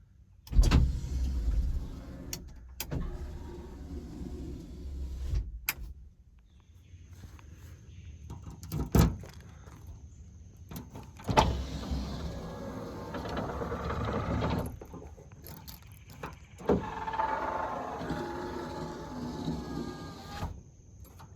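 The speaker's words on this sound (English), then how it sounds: "the big failure points on this model Bronco is the rear glass, and it took a lot of work, but we actually got this one working" The power rear window glass of a Coyote-swapped Ford Bronco runs through several cycles, a whining electric motor rising and falling with clunks as the glass starts and stops, close and with no talking.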